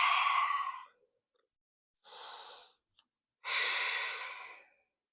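Slow, deep human breaths during a cool-down stretch: three long airy breaths separated by pauses, close and soft, with no talking.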